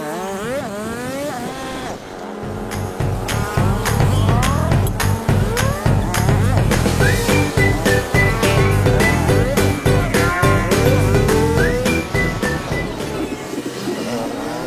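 A motorbike rides past a long queue of cars on the road to Kawah Sikidang crater in Dieng, its engine loud and close with pitch rising and falling as it weaves along, with other vehicle engines around it.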